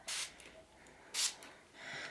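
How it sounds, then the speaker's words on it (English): Water spritzed from a spray bottle onto a Tonic and Tim Holtz glass media mat gives three short, soft hissing bursts separated by brief pauses, quiet and close, with no voices. "I'm going to be adding a spray of water."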